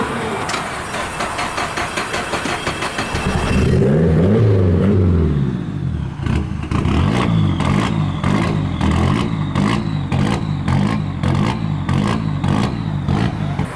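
Nissan S15 with an SR turbo engine and a popped-off intercooler coupler runs loudly, first at a steady rough idle, then swelling into a heavy rev before settling back into a choppy idle broken by repeated sharp clattering pulses.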